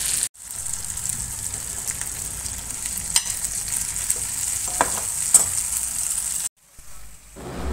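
Curry masala sizzles in hot oil in a pan, a steady close frying hiss with a few faint clicks, cut off briefly near the end.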